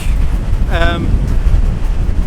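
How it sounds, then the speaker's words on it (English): Gusty wind buffets the microphone with a low, rough rumble at Point Peron at sunset, and a brief tonal sound cuts through near the start. "it is really windy, so hopefully that's not being picked up on the sound too much"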